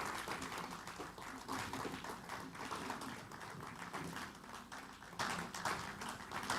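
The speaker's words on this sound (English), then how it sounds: "please do not stop clapping" Audience at a project event keeps clapping for Oxfam's Ghana country director, a continuous, fairly faint patter of many hands that rises slightly toward the end.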